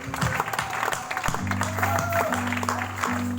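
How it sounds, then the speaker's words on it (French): Congregation clapping together during a Sunday church service, steady broadband applause throughout with organ or keyboard notes sustained underneath. "Acclamons pour le Seigneur."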